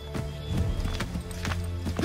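Horse hooves clip-clop in a quick, regular rhythm of sharp knocks in the Assassin's Creed 3 video game, over a steady background hum; a whinny cannot be made out.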